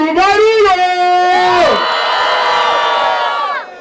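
Loud crowd at a Brazilian rap battle semifinal screams, whoops and shouts in a dense, sustained roar, with high voices rising and falling over a few seconds before easing slightly.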